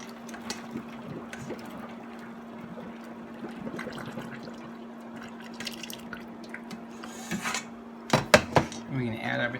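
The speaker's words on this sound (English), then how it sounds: "we're going to pour our potatoes in our colander" Boiled potatoes and their hot water tipped from a pot into a colander, a burst of splashing, dripping and clattering near the end after steady background hum, with talk over it.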